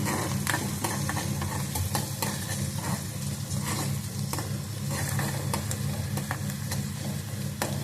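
Cluster beans fry with a little salt in a pan: a continuous close sizzle with frequent clicks and scraping from stirring and a low background hum, no voices.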